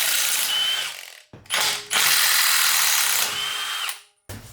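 Ratchet wrench loosening 17 mm bolts on a Porsche 944 suspension, rapid close clicking bursts in several runs separated by brief pauses, loud and without talk.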